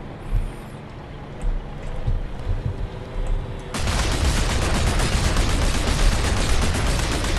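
Gunfire in the Planetside 2 video game, quieter scattered shots and booms at first, then a sudden loud, dense, continuous roar of firing that stays steady to the end.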